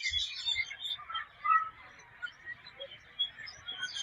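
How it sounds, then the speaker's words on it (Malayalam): Faint, high bird chirps and tweets come and go in a quiet park in Qatar, scattered and light. "നല്ല കിളികൾ തരണ സൗണ്ട് കേൾക്കുന്നുണ്ടാ"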